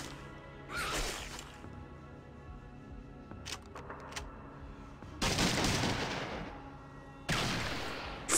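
Gunfire in the video game Fallout 2: several short, quiet bursts of shots separated by pauses, with a couple of longer crackling volleys toward the end.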